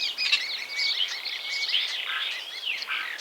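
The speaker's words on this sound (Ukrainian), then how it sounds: "Шпаки не тільки бережуть наш сад від шкідників, а ще й розважають нас своїми співами." Songbirds, starlings in a garden, singing in a continuous stream of bright, varied whistles and chirps, fairly close and steady, with no talking.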